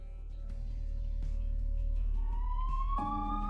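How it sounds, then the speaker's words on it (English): An ambulance siren wails steadily and rises in pitch, growing louder as it nears over a low rumble, heard alone without voices. "An ambulance took me to the hospital."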